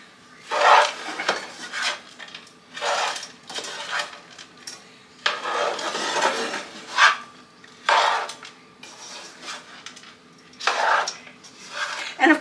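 Bacon, about one and a half pounds, being stirred in a crowded pan, giving repeated scraping and clattering bursts of utensil against metal in an uneven rhythm, close and fairly loud with no talking.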